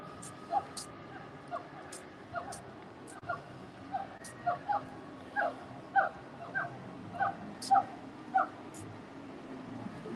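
A dog gives a long series of short, evenly spaced yipping barks, fairly faint and distant, over a low background hum, in a parking lot at Disney's Animal Kingdom.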